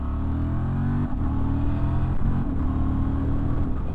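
A 2023 Honda XL750 Transalp motorcycle accelerates hard in second gear, with a steady loud engine drone that climbs in pitch, briefly dips and rises again. No one speaks.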